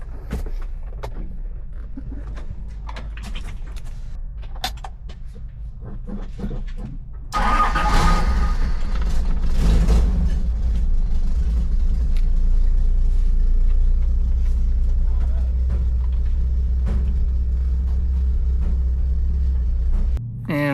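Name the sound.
Toyota Land Cruiser 70 series driving, testing four-wheel drive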